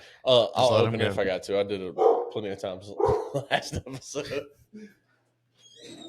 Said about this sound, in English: Welcome the dogs into the podcast, if you can hear them barking.